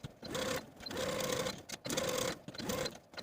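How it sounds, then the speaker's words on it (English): A sewing machine stitches a shirt collar seam in close, buzzing bursts, with a whirring run that stops and restarts three or four times and short pauses between. "So stitch your seam to one side of your collar all the way across"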